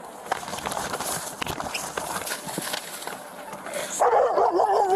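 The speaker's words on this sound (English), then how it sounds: "Is that your dog?" A dog barking in a tense outdoor street confrontation, a run of sharp barks and scuffling steps among voices, with a louder burst of rapid barking near the end.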